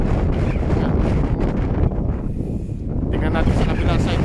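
Strong wind buffeting the microphone outside the Colosseum in Rome, a loud continuous rumbling roar with gusty swells throughout, plus faint background sounds.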